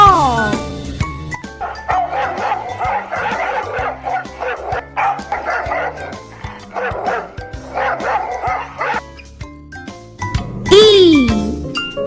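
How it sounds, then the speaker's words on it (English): A dog barks in short yapping bursts, repeated several times at a moderate distance amid a jingly children's song, with a voice and sliding whistle-like notes over the music. "D for dog"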